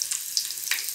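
Garlic frying in a pan while an eggplant bharta is cooked, with a steady soft sizzle and brief bursts of louder crackle, close and alone with no talking.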